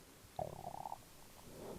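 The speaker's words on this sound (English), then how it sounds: "if you heard that, that was my stomach" A brief gurgling stomach rumble, close and fairly quiet, lasting about half a second in an otherwise still room.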